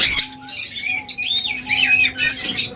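A pair of red-eye lutino pet birds squawk loudly and close up, with several harsh bursts and trilling calls overlapping over a few seconds.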